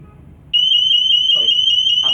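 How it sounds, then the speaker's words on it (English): A gas leak detector's piercing, continuous high-pitched electronic alarm tone switches on abruptly and holds steady, loud and close. "Gas leakage, it will trigger the sound like this."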